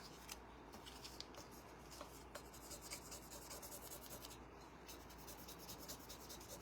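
The end of a popsicle stick rubs against a surface in quick, faint, scratchy strokes, repeated in a steady back-and-forth rhythm, soft and close with no talking.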